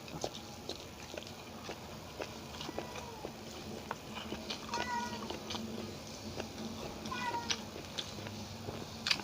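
A cat meows several times outside at a distance, thin wavering cries scattered over a quiet background with faint ticking and occasional soft noises.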